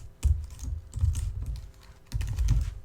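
Typing on a computer keyboard in bursts of rapid keystrokes, close and fairly quiet, with short pauses between runs.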